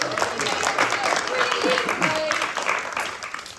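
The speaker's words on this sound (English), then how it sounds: "round of applause for Will and Millie." An audience gives a round of applause for two performers at a fringe comedy show, steady dense clapping held at an even level for the whole stretch, with faint voices mixed in.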